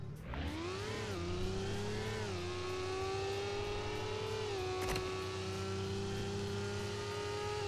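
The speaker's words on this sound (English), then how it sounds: "so the new engine sound is very cool" A video game car engine, the Carbonara in Roblox Jailbreak, revs and drones continuously while driving, pitch rising and dipping with gear changes, a steady mechanical whine throughout.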